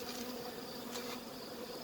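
Honey bees buzzing in a dense, continuous drone, many insects close by with no pauses and no voices.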